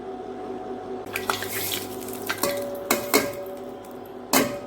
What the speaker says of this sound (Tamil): கடுகு வந்து நல்லா பொரிய ஆரம்பிச்சுட்டு